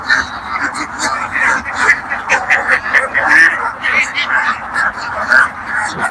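Ducks on a duck farm quack repeatedly in a loud, busy chorus, with overlapping calls in an irregular rhythm throughout and someone talking faintly underneath.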